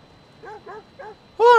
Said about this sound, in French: Oh, un husky!